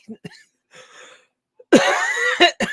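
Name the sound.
coughing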